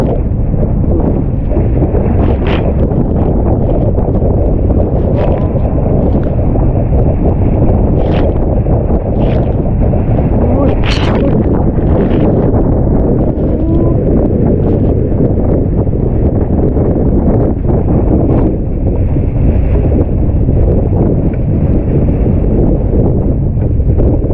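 Unusually strong wind roars continuously and loudly, buffeting the microphone with heavy, unbroken rushing noise and occasional sharper gusts.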